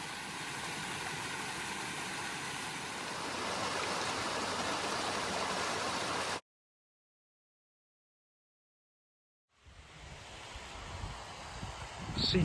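Steady broadband rushing of a waterfall in the Peak District, close and constant, broken by a few seconds of silence before the rushing returns.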